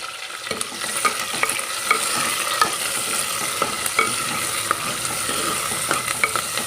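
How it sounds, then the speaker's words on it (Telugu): Tomato pieces fry in a hot pan for a sweet potato and dried fish stew. A loud, continuous sizzle runs throughout, broken by the clink and scrape of a spoon stirring. "టమాటా ముక్కలు కూడా వేసేస్తున్నాను"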